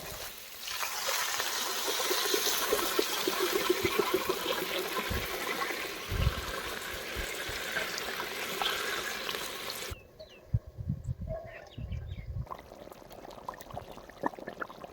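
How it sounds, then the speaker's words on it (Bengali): Water is poured steadily into a pan of vegetarian curry made with maida for gravy, a continuous splashing rush for about ten seconds before it stops, followed by quieter sizzling and clatter. "এখন আমরা ঝোলের জন্য পরিমাণ মতো জল দিয়ে দিব।"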